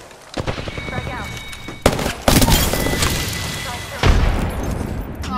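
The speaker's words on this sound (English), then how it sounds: "Oh, that's my thermite." Thermite grenade and blasts in the Apex Legends battle royale shooter, a dense crackling, roaring burn broken by several loud booming impacts and gunfire-like bursts, with a player talking over the chaos.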